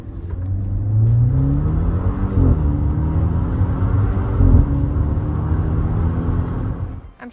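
A Maserati Levante GT Hybrid SUV from 2023 drives past with a steady, loud engine rumble that rises as it accelerates and holds through the whole stretch, with no talk over it.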